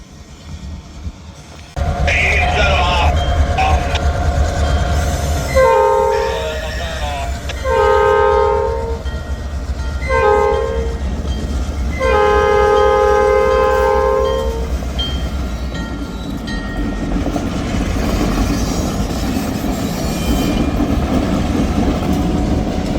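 A freight train approaches a road crossing on a branch line toward Oconto Falls, blowing a sequence of long and short horn blasts over a steady, heavy rumble of rolling wagons.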